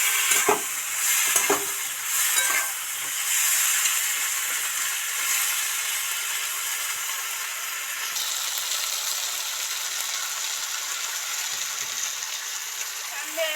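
A pan of village-style curry made with small river crabs, stirred after a splash of water, gives a steady hiss of sizzling and steam with a few spoon scrapes early on, close and continuous.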